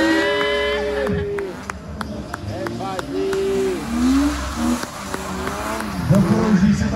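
A race car with a tuned 2.8 engine screams through a circuit race, its revs rising and falling through gear changes with tire squeal, loud and close, while someone talks over it.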